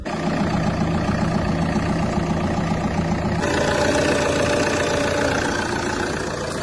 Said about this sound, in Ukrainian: Двигун працює нерівномірно.